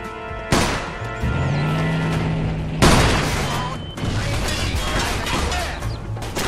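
Gunfire and heavy impacts during a Mafia 2 video game shootout, loud booming shots and crashes over a low droning score, with shouting voices mixed in.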